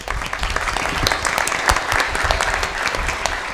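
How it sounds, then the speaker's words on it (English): A full-house audience at an ICT week event claps steadily close to the microphone, a dense, loud patter of many hands sustained evenly throughout with no talking over it. "You could have actually switched on your mic so that you can clap so it's heard better."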